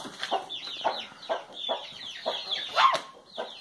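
A hen clucks among her grown chicks, soft repeated clucks at a steady walking rhythm mixed with higher chirps and peeps from the young birds nearby, close up and with no one talking.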